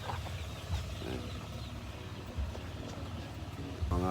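Native chickens cluck and murmur steadily on a farm, several birds close by with short repeated calls overlapping throughout, and a louder burst near the end.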